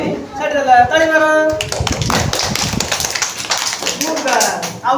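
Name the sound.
hands clapping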